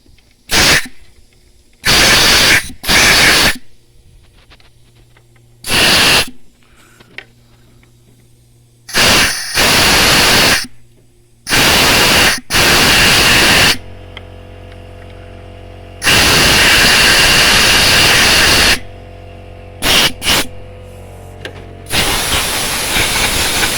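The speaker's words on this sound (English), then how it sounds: "Let's clear all that swarf away." A compressed-air nozzle blows swarf out of a stripped injector bolt hole on a 2009 Mercedes C220 CDI, in a run of loud, sharp hissing blasts of varying length separated by short quiet gaps, with no talking.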